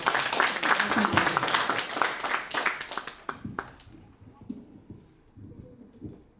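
Audience applause at a district development forum in Daegu, South Korea, welcoming a health ministry official to the podium; dense clapping fills the first few seconds, then thins into scattered claps as the room quiets.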